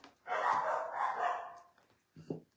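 Dogs bark in a rapid burst, fairly close, then a short pause before one more sharp bark.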